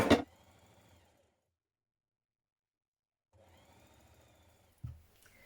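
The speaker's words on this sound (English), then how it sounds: "stitch around the top of them just to keep them in place before we attach them to our bodice" A sewing machine stitches around the tops of dress sleeves in two short bursts of steady, rapid mechanical whirring separated by a silent pause, close and moderately quiet, with a brief thump at the end.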